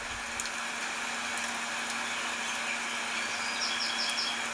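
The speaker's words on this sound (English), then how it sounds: "It's really nice, the background, the rain background." Rain background sound played from an iPhone, a steady, even hiss of falling rain with faint chirps of a small bird mixed in, continuous and moderately quiet.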